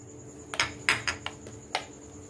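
Chopped banana, kiwi, guava and pomegranate are mixed in a bowl for fruit custard, a few close spoon clinks against the bowl in quick succession, with no talking.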